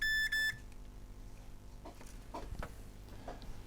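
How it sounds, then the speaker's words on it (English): Two short, high multimeter continuity beeps sound close at the start, followed by quiet handling clicks and taps. "I put my meter on continuity, so it will beep when I touch the prongs."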